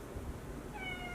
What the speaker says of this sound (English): That's my cat, you guys.